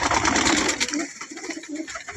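Pigeons cooing softly among a loft of racing birds, including a green-tinged pigeon, with a dense rustling bird chorus and background hiss throughout.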